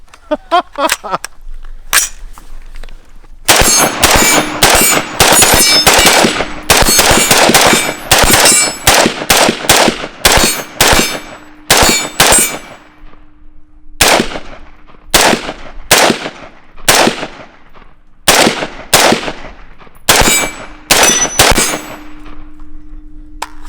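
A rifle fired repeatedly outdoors at a shooting range, loud sharp reports in rapid strings and quick bursts with brief pauses between, each shot ringing with a metallic clang; faint talk occurs early.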